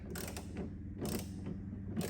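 A quiet ratcheting tool clicks in short bursts while unscrewing a Ford Mustang door handle screw, with a pause between strokes, close up and faint.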